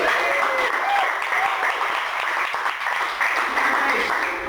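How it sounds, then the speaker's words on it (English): A user group conference audience in San Diego applauds steadily, a dense, even round of clapping at a constant level throughout. "everyone give a round of applause for Dan Tyre."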